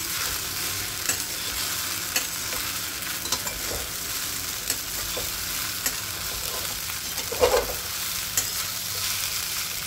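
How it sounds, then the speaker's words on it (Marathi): Sabudana khichdi with salt, a spoonful of sugar and browned potatoes in a little oil is stirred in a pan. A constant soft sizzle runs throughout, with occasional light scrapes and clinks of the spoon. "तर छान याला मिक्स करून घेऊया आपण।"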